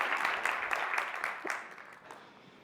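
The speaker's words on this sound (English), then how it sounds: "The applause." An audience at a learning-technology conference arena applauds, a short burst of dense clapping that starts strong and thins out toward the end, fairly faint overall.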